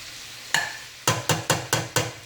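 A spoon stirs cabbage soup in a pot, one scrape followed by five quick evenly spaced knocking strokes against the pot over a faint background hiss, close and fairly loud.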